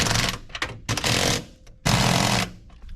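Power tool with chrome sockets tightening screws while refitting a turn signal switch on a Chevrolet C10/C20 squarebody truck: three loud rattling bursts, the last two long, separated by brief quiet gaps.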